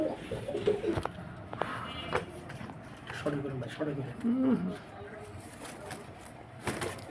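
A Pomeranian pouter pigeon cock coos in soft repeated throaty phrases around the middle, with someone speaking nearby over faint farm background noise.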